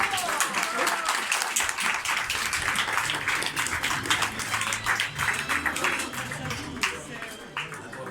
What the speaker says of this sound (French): vous pouvez faire un petit applaudissement pour ce qui vient